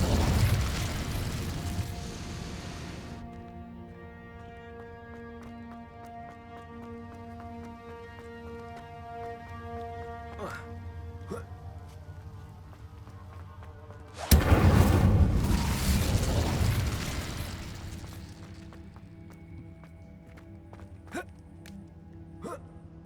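Incendiary spell blasts in Hogwarts Legacy, two loud bursts several seconds apart, each followed by a long ringing, crackling decay with scattered pops and clicks in between.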